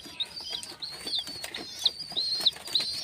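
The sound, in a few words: Teddy pigeon chicks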